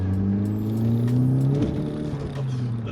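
An Audi S3 facelift engine revs up loud and close, its pitch climbing, then briefly breaks off as a manual gear changes before pulling again.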